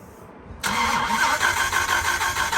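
A big Dodge Viper engine cranks briefly and catches with a sudden loud roar, then settles into a rough, steady rumble close by.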